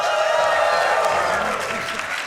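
A live audience at the Awesome Games Done Quick 2026 speedrun marathon cheers and applauds throughout: steady, dense clapping from a crowd, with voices mixed in.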